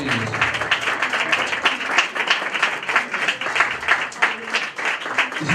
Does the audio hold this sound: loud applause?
yes